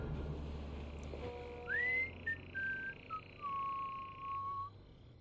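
A character whistles a short, wandering tune of a few sliding notes in the video game Road 96, heard clearly over a quiet ambient game background, preceded by a brief low rumble.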